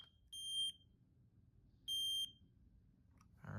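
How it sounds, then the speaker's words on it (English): A Kidde smoke-only detector sounds two loud, shrill electronic beeps of about half a second each, spaced roughly a second and a half apart, over a quiet background. A brief rustle or handling noise follows at the end. "Kitty smoke only detector. This one also doesn't work. Oh,"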